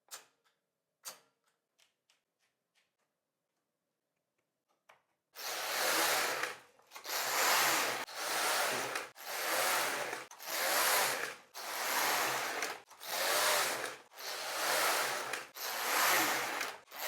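A Passap Duomatic 80 knitting machine knits plain rows in yellow yarn, the carriage swishing back and forth in a steady series of loud, evenly spaced passes after a few quiet clicks.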